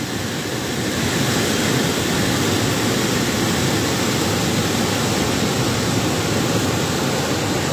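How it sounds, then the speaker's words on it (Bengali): Heavy rain pours down steadily near a flooded river at the Muhuri project in Feni, a loud, unbroken broadband roar with no talking. "প্রচুর পরিমাণ বৃষ্টি হইতেছে।"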